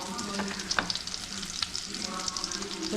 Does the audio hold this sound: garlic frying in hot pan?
yes